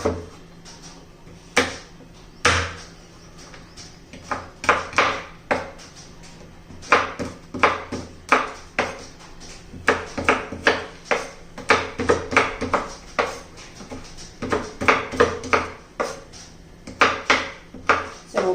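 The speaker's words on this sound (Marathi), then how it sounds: "आता हे खोबरं पण बारीक करून घेऊया" A knife chops dried coconut on a board, sending out sharp, close, irregular knocks that come in quick clusters with short pauses in between, and no voices.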